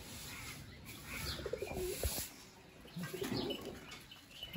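Pigeons from a home collection of several breeds coo softly in low, throaty phrases, with light bird chatter and faint wing movement in the background; no one speaks.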